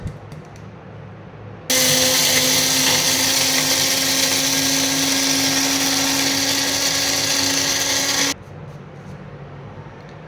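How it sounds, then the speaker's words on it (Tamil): A blender grinding coconut starts abruptly and whirs at a loud, steady high pitch for about six and a half seconds, then cuts off into quiet room noise. "இப்போது பிளெண்ட் பண்ணி எடுத்துக்கலாம்"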